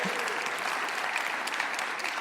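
An audience claps for a speaker who has just announced a 60th birthday, producing a dense, even wash of applause from many hands at close range throughout.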